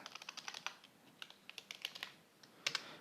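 Typing on a computer keyboard, a quick, uneven run of crisp key clicks heard close and fairly quiet, with a short pause before a final pair of sharper taps.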